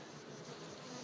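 A dense, steady buzzing of many honey bees at a 49-frame horizontal hive fills the air, close and continuous.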